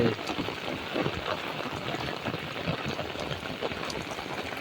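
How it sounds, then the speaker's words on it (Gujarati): Steady heavy rain roars as a dense, continuous patter with no pauses, fairly close. "ધડમાર વરસાદ એવો છે ઘડીકમાં પાણી પાણી કરી નહીં છો"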